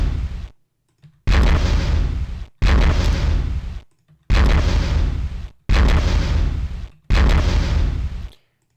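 Missiles firing and exploding in Master of Orion 2, five loud booming blasts in a steady rhythm, each separated by a brief silence.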